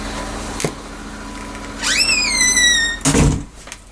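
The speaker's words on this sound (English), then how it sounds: "Just let me close my door." An indoor door swings with a rising squeak and shuts with a solid thunk, close and loud, a softer knock earlier and a washing machine hum underneath.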